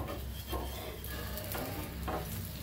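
An egg omelette for bread omelette sizzles softly in a pan while a spatula loosens it from underneath, giving a quiet, steady hiss broken by a few brief scraping strokes.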